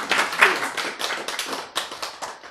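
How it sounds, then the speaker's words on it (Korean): A group of listeners at a Korean Bible lecture clapping briefly together. The irregular claps are close and fairly loud, with a few louder bursts standing out from softer patters. "박수."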